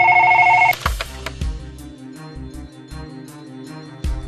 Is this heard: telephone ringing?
yes